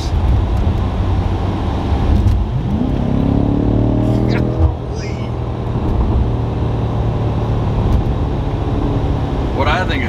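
A 900-horsepower BMW M5 accelerates hard from inside the cabin, a loud rising engine roar with climbing tones across several gear pulls, while occupants talk over it.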